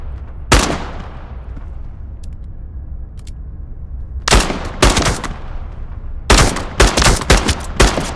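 Loud close gunshots in the Into the Radius 2 video game: one isolated shot, then a pair, then a rapid cluster of bursts, with a low rumbling background between them.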